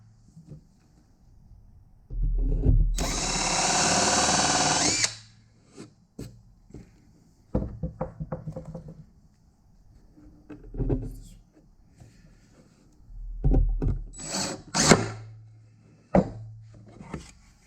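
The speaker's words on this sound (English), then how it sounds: "Let's countersink this one right here." A power drill countersinks a hole in a wooden mold box for rubber casting, one loud steady whir lasting about two seconds, followed by scattered knocks and handling clatter of the box.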